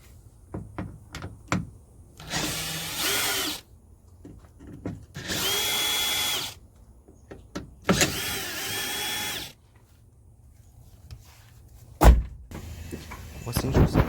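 A power drill whirs in three separate bursts of about a second or two each, undoing the bolts that hold a rear door lock actuator on a Cadillac Escalade, with clicks and knocks of handling between bursts and a sharp bang near the end.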